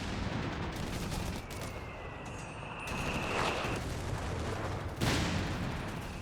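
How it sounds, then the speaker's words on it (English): Artillery barrage from 75mm half-tracks in Company of Heroes 3: dense, continuous rumbling battle noise with scattered shell blasts, including a sharp loud impact near the end. "First barrage from our 75mm half-tracks coming in now."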